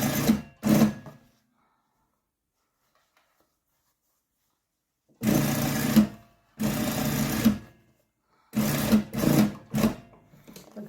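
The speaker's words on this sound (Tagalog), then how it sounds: "Maririnig nyo lang yung tunog ng makina pag tinatahi." A sewing machine with a near-silent motor stitches fabric in Ireland, its needle clattering in short bursts and longer runs separated by pauses, close and clear.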